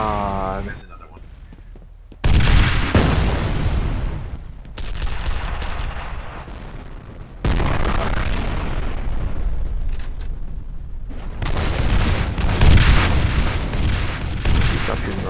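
Heavy rocket blasts in the shooter game F.E.A.R. erupt as loud, sustained booming bursts, one after another with brief lulls between, with a voice talking over part of the action.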